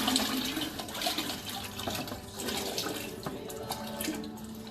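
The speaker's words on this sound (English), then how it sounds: "pour the glaze" Ceramic glaze is poured over a pottery piece, a steady close splashing and trickling of liquid that carries on for several seconds without talk.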